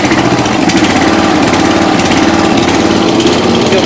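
The small engine of a 1992 Yard King lawn tractor, restarted after sitting for seven years, runs loud and steady at about half throttle with a constant buzzing drone close by.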